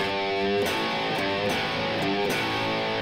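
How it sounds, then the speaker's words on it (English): An electric guitar plays distorted 80s rock chords and notes, probably a power chord on A after a low E. The sustained overdriven tones change a few times within a few seconds. "and then I'm playing the power chord on A."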